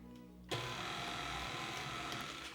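An electric mixer starts up and whirs steadily while working grated butter into flour for buttermilk biscuits, a close, loud motor drone that follows a brief quiet moment.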